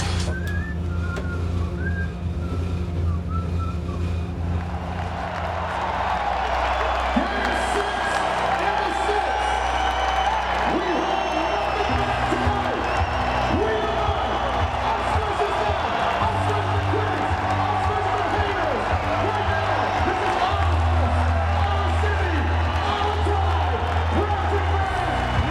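A home crowd in an arena during a Toronto Raptors versus Cavaliers basketball game, with a steady roar, whistles and cheers under continuous commentary.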